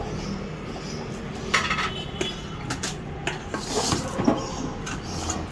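Garlic, ginger and salt mixed together in a bowl, giving continuous close scraping and rubbing with light clinks of a utensil against the bowl.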